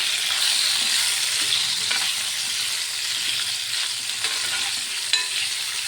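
Ivy gourd (tindora) frying in a pan with salt, a loud continuous hiss of sizzling oil with occasional faint scrapes of stirring, close by and steady throughout.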